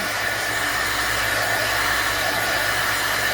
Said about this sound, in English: A hair dryer would work better.